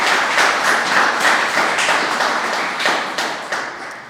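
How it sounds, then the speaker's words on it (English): A crowd claps steadily and close up for the Pulaski Parade Committee at a Bayonne Pulaski Day wreath-laying ceremony. The applause runs loud and continuous with no speech, then thins slightly toward the end. "Please give them a round of applause for all that"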